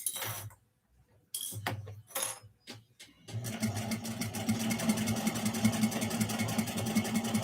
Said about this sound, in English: I am going to start long stitches.